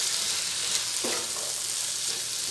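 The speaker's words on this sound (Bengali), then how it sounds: "এবারে ভালো করে ভাজব।" Tomato, capsicum and coriander powder frying in a pan for paneer bhurji, a steady soft sizzle running throughout with a brief stir scrape near the middle.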